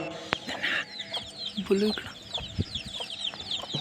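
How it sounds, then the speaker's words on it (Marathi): A hen clucks repeatedly while many chicks peep in high, rapid chirps nearby, with faint outdoor noises in the background. "कोंबडी आपल्या पिल्लांना घेऊन खाण्याच्या शोधात इकडे तिकडे भटकत आहे"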